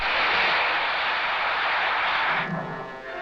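A steady loud roar of a helicopter engine close by, easing slightly toward the end.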